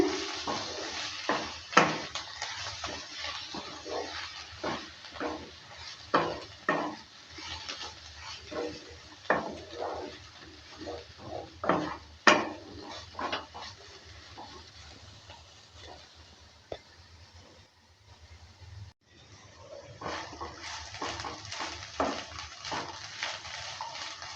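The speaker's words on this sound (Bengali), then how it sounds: "ভালো করে আবারও নেড়ে চেড়ে নিচ্ছে" Mustard greens with potato and peanuts are stirred and fried in a pan, giving repeated scraping and clattering strokes over a low sizzle, louder in bursts, with a short quiet stretch.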